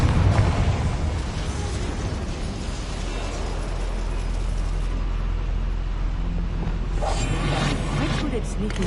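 Confringo fire spell cast in Hogwarts Legacy, a loud burst with rumbling, crackling mechanical clatter filling the scene, brighter flare near the end, with game voices talking over it.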